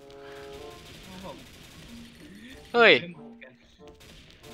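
A single sharp, loud shot from a classic old-style gun in the shooting game XSHOT cracks out in the middle, with softer game sounds and a voice around it.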